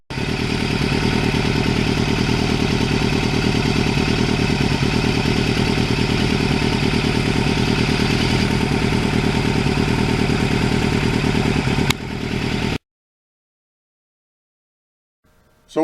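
Kawasaki Ninja motorcycle engine running steadily while riding, a loud, even, buzzing drone that holds for about twelve seconds before cutting off abruptly into silence.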